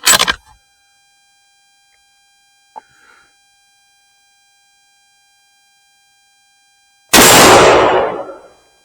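A .223 rifle fires at a center steel plate outdoors: a sharp, loud crack at the start, a faint distant ping partway through, then another loud blast that rolls off in a fading echo.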